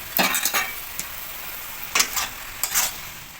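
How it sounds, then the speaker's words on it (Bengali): Cabbage and pea curry stirred in a pan, with a few scraping strokes of a spatula against the metal over a soft sizzle, coming in short bursts with brief pauses between them. "এবার নেড়ে দেবো"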